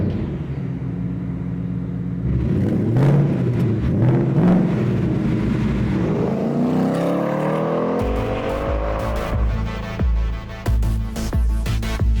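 A Ford Mustang accelerates hard, its engine rising from a steady idle rumble into a loud climbing roar with rising pitch and gear changes, heard close up and alone.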